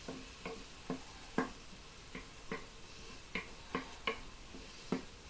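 Chicken stew with sorrel, potato and mustard bubbling in a pot, soft irregular pops and blips spaced about half a second apart over a quiet background.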